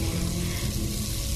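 Cold water pouring steadily from a tap into a sink, a continuous close rushing splash that runs unbroken throughout with no voices.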